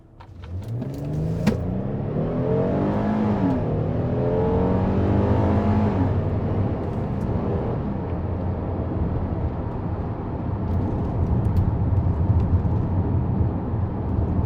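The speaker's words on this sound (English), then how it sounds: "I have it in sport mode now, and just kind of accelerate a little bit here on this entrance ramp just to see what it sounds like" A 2022 Kia Telluride SX AWD in sport mode accelerates up an entrance ramp. From inside the cabin the engine note climbs and shifts through the gears, then settles into a steady drone of engine and road noise with no talking.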